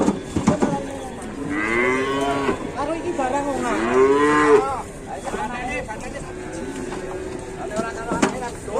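A Simmental cow lets out loud, close, drawn-out moos, two long calls in a row, with people talking nearby at a cattle sale.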